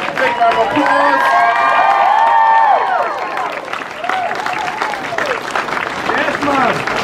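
Cheering and clapping from a comic con crowd in Glasgow celebrating cosplay winners, with excited shouts and whoops over a steady bed of applause, loud and nearby throughout.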